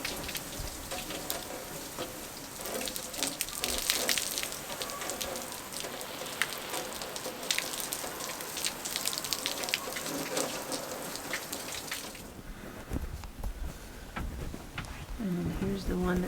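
Water from a hose sprays onto an RV roof, a steady dense hiss and patter like heavy rain on a hard surface, continuous and close, briefly changing in tone near the end.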